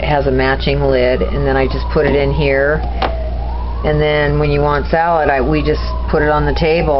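Emergency vehicle siren wailing outside a home kitchen, a rising and falling tone running steadily beneath someone talking close up.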